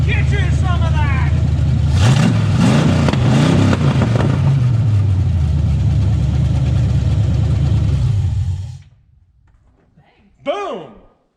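A 1988 Pontiac Firebird's engine starting and running at a loud, rough idle with a couple of blips of revving, people shouting over it, then cutting off to near silence before a brief voice.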